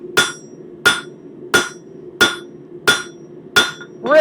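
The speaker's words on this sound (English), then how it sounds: "the round section of that cross peen hammer, what it's actually doing is it's a very generalized forging hammer" A cross peen hammer forging a metal leaf taper, struck in six evenly spaced sharp ringing blows about two-thirds of a second apart, close and loud with a bright metallic ring after each hit.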